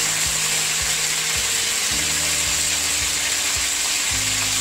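Prawns frying in a pan with salt and turmeric, giving a steady close hiss of oil throughout, with a low humming drone and recurring tonal sweeps underneath; no talking.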